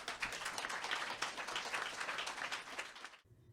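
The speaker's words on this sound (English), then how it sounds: "Now please give our panelists a warm round of applause." Audience applause for the panelists at a Writers' League of Texas food-writing event: dense, steady clapping from a crowd for about three seconds, then cutting off abruptly into quiet.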